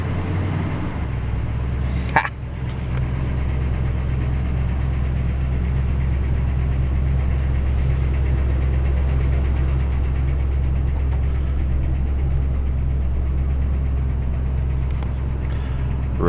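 A Toyota Tundra engine idles in four-wheel drive with a low, steady rumble and vibration throughout, after a brief clunk near the start.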